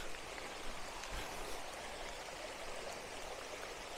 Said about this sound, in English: Yeah, there's a little shot of the babbling brook.